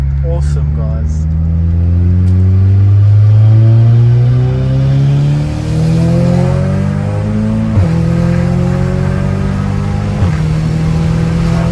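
Audi S3 accelerating hard through gears on a highway, engine note climbing steadily with quick shifts and brief turbo flutter, loud and close from inside the car, with people talking over it.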